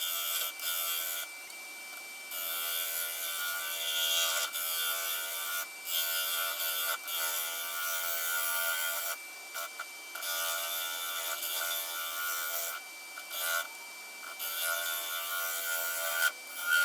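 A steady high whirring hum of a lathe turning a spalted maple bowl with a sustained tone, broken by brief dips and scraping cuts, with vibration, fairly faint and mechanical.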